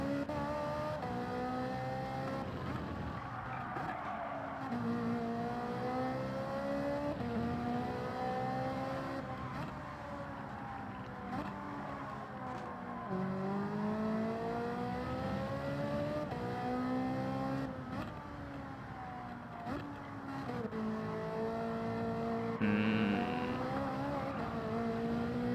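A race car engine in Gran Turismo 7 revs continuously and loudly, with rising and falling pitch sweeps as the car accelerates, lifts and shifts through gears on track.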